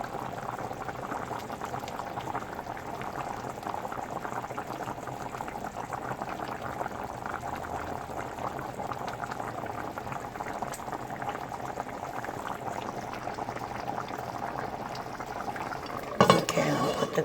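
Curry chicken boils steadily in a pot, a dense, even bubbling simmer heard up close throughout, with a brief clatter of the lid or utensil at the very end. A voice is faintly present.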